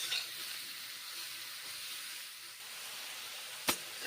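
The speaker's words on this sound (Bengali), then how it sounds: "তারপর পটল মাশরুম এখন ভেজে নিচ্ছি।" Pointed gourd and mushroom frying in hot mustard oil: a faint, steady sizzle and hiss with one sharp clink near the end.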